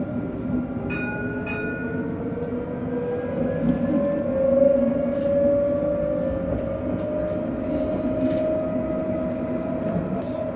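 Interior sound of an Île-de-France T10 tram in motion, a steady rolling rumble with rising and falling motor whine and faint high squeals from the wheels, continuous over the ride without talk.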